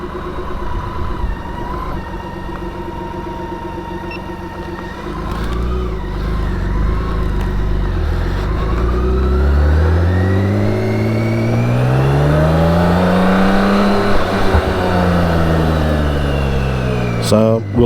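A BMW K1600 GTL motorcycle on the autobahn accelerates hard, its engine rising in pitch through the gears over steady wind noise, near and loud, with brief speech early on.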